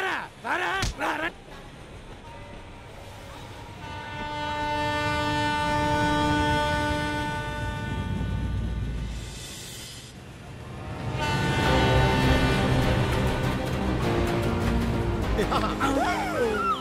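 Train approaching on a railway track in a Telugu comedy film fight scene: a sustained, blaring horn sounds over a swelling rumble of wheels and cars, fading briefly, then returning louder as the train draws near.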